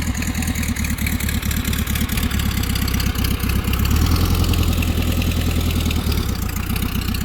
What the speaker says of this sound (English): So the engine's warming up.